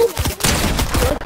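Rapid bursts of Fortnite gunfire fill the clip, loud and continuous, with overlapping shots in a fast rattling volley and a brief voice in the background.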